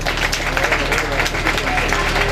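Applause from a crowd at a family mourning ceremony, a steady patter of clapping mixed with murmuring voices and a low hum underneath.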